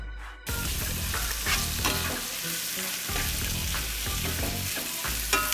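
Kale tossed into a hot pan with seasoned onions sizzles loudly and steadily from start to finish, with a loud clatter at the very start and bursts of stirring scrapes running through the frying hiss.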